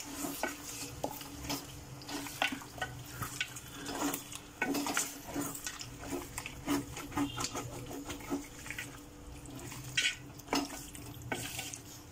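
A spoon stirs mutton curry gravy thinned with hot water in a cooking pot, giving quiet repeated scraping and clinking against the metal with a faint bubbling simmer, close by and without speech.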